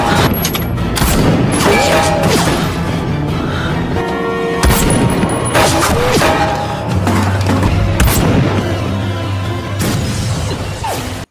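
Long-range sniper gunfire in an action film scene: repeated sharp cracks and heavy booms with crashes and thuds, loud and dense over a full soundtrack, with brief voices mixed in.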